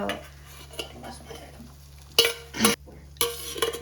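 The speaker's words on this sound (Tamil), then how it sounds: "முட்டையை வந்து நல்லா அடித்து ஊற்றுங்க" Eggs for rice noodles are beaten in a bowl, making a few sharp clinks and scrapes of utensil on the bowl in short separate bursts over a quiet background with a low hum.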